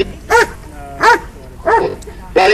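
A police K9 dog at a Relay For Life demonstration barks four times: loud, close, sharp barks evenly spaced with short gaps between them.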